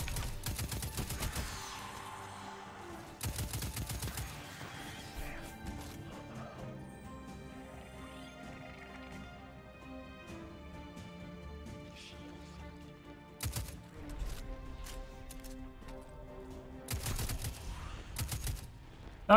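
Gunfire in Destiny 2: several separate volleys of rapid shots, each burst loud and sharp, breaking over a quieter musical background between them.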